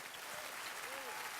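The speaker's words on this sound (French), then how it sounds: "applaudissez-le très fort" Faint, steady applause from a crowd, a soft wash of clapping that continues evenly without a break.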